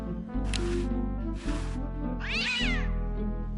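A cartoon cat in the adventure game Day of the Tentacle meows a few times over steady game music, with one clear rising-and-falling meow near the end.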